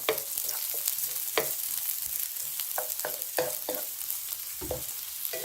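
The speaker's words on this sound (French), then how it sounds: "On remet une cuillère à soupe d'huile de tournesol, l'ail. On fait revenir 10 secondes." Garlic sautés over high heat in a tablespoon of sunflower oil, giving a steady close sizzle with frequent sharp spatula scrapes and taps against the pan, with no talking.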